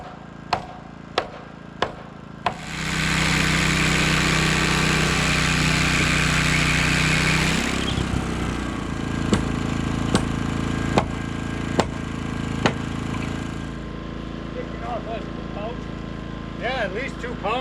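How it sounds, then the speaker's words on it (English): A small portable generator running a saw at a lake house framing site, loud steady engine drone after a few sharp knocks, with hammering taps over it and people talking. "Let's see if the little generator can spin that saw."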